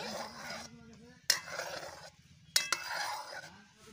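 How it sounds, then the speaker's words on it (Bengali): Cooked vegetables being stirred with coriander leaves in a pan for baby food, two sharp utensil clinks on the pan amid soft sizzling and scraping, with faint voice-like hum underneath. "এবারে আমি নেড়ে চেড়ে দিচ্ছি।"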